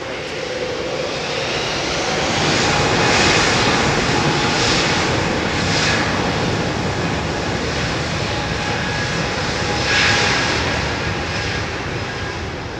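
An Emirates jet airliner in its new livery roars past at a major airport, a broad, steady engine rumble that swells slightly and holds for several seconds, fairly loud and with no voices.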